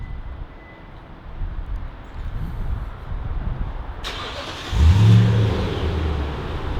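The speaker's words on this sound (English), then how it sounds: "let me turn this truck on for you" A 2015 Toyota Tundra truck on its stock exhaust cranks and fires up partway through, then settles into a loud, deep idle after a brief rev, with a low background hum beforehand.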